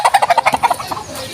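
Chickens cluck in a quick rhythmic series of close, nasal calls, then trail off into softer scattered clucking.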